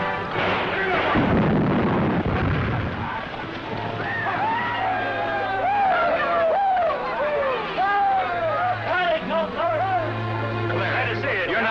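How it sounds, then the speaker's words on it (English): Cannon fire booms in a classic TV western, a heavy rumbling blast in the opening seconds that gives way to voices talking over music. "They shoot cannon."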